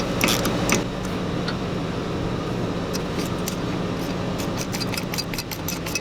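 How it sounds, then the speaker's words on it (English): Save-A-Thread insert threaded by hand tool into a deep spark plug hole of a Ford 6.8 liter V10 engine, giving steady creaking, ratcheting mechanical noise with sharp clicks throughout, close and fairly loud. "And then you thread it in until it comes to the bottom"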